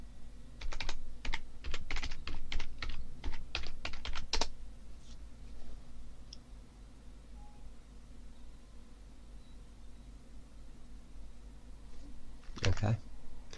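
Netcat command typed on a computer keyboard, a quick run of close, crisp key clicks for several seconds, then quiet, then a final short burst of keystrokes, with faint background hiss.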